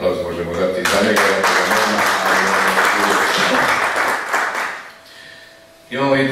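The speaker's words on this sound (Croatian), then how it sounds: "Jedan aplauz možemo dati za njega." Audience at a veterans' association ceremony in Kaštela bursts into sustained, dense clapping that fills the room, fades out near the end, and is followed by a sudden loud noise.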